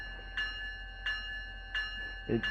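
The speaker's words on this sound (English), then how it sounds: "The bell rings around here for this one." A locomotive bell on a Tri-Rail train in the RO-Scale Sandbox game rings in four evenly spaced metallic dings over a low steady engine hum, fairly quiet, with a brief thump near the end.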